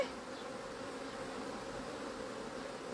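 A low, steady hum of agitated honey bees during a hive split, faint and continuous throughout with no voices.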